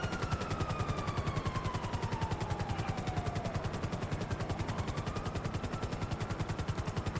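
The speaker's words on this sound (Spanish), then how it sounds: "¿Qué tenemos, otro helicóptero?" A helicopter in a video game thumps with a fast, steady rotor beat that stays loud and constant throughout.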